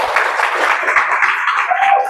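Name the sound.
class applause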